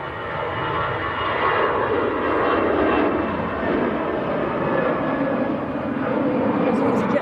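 An EasyJet jet airliner bound for Paris roars steadily at Manchester Airport, a broad sustained engine rumble heard from a distance throughout, with people chatting underneath.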